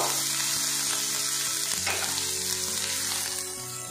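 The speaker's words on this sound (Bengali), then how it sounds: "পেঁয়াজটা আমি ফ্রাই করে নেব।" Onion paste frying steadily in a pan, a dense continuous sizzle that holds loud throughout before easing slightly at the end, with no talking.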